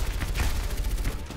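Rapid bursts of gunfire from the Overwatch shooter game clatter in quick succession, loud and close, with no one talking.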